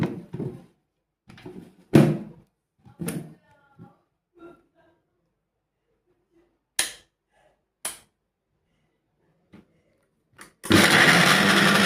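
A few knocks and clunks as a mixer grinder jar is set up, then the machine starts with a loud, steady whirring roar as it grinds a mixture with milk and curry leaves. The sound is close and no voice is heard.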